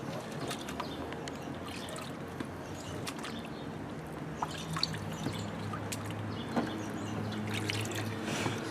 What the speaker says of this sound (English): So I'm just kind of dipping my fruit and vegetables inside the bleach water.